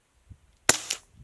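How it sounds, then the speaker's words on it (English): A suppressed Savage MKII FV-SR rifle firing a subsonic round at a short-range target fires one sharp, close report that ends in a short tail, with a second, softer crack just after it and faint handling noise before. "Shoot off this board at a short range rifle target since it's the noisiest one."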